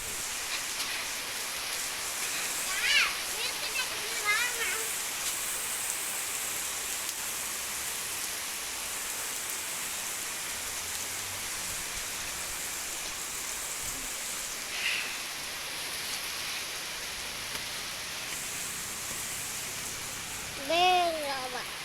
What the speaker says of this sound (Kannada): ಮನೆಗೆ ಬರುವಷ್ಟರಲ್ಲೇ ಮಳೆ ಸ್ಟಾರ್ಟ್ ಆಗಿಬಿಡ್ತು